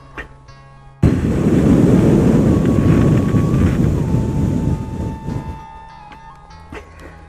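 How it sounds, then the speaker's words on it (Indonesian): Loud roaring ocean surf with gusting wind at sea, a sound effect from a Sundanese audio drama, bursting in abruptly after a second and churning steadily before easing off, with a faint tonal whine running through it. "Harita teh ombak beuki ngaguruh."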